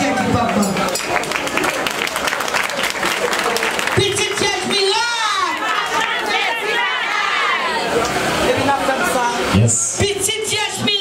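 A lively audience claps and cheers continuously, with crowd shouts and whoops over the noise and voices calling out throughout.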